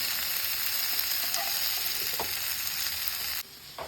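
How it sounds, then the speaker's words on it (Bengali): Cauliflower pieces fry in oil with a steady, close crackling sizzle that holds evenly before dropping away abruptly near the end. "এই দেখো ফুলকপিগুলো কিন্তু একদম ভাজা ভাজা হয়ে গেছে"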